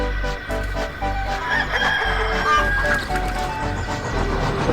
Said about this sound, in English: Thomas collected the chickens.